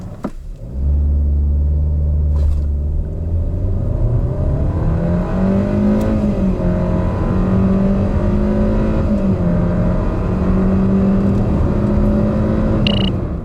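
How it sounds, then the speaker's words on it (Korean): Hyundai Avante (Elantra) Smartstream 1.6 from 2019 accelerating hard in a performance test, engine note rising and dropping through gear shifts, a loud, steady in-cabin drone for the full run with no talking. "자, 가속 성능을 한번 볼까요?"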